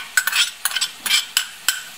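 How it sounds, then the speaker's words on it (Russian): Onion and carrot fry in a pan with a steady sizzle, broken by a rhythmic run of scraping stirs from a utensil against the pan. The sound is close and moderately loud, with no talking. "Жарится у нас лучок."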